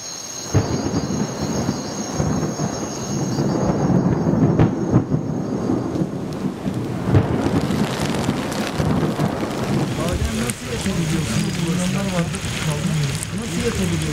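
Heavy rain pours steadily during an outdoor storm in a survival competition camp, with a deep rumble of thunder rolling underneath; voices are faintly audible beneath the wash of rain.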